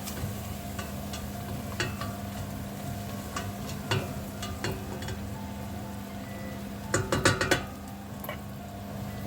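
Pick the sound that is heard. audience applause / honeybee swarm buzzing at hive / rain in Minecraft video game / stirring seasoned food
stirring seasoned food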